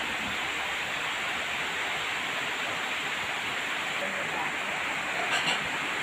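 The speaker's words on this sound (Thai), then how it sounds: "โอ้ฝนตกค่ะ" Steady, even hiss of out-of-season rain falling at a chicken noodle eatery, broad and continuous, with a faint brief clink near the end.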